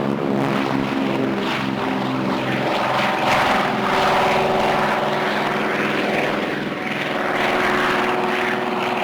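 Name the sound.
RAAF DHC-4 Caribou propeller aircraft engine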